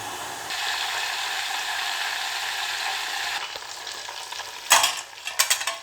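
Cream bubbling and sizzling in a pan as it cooks down into homemade ghee, a steady dense crackle with a spoon scraping and stirring in short bursts near the end.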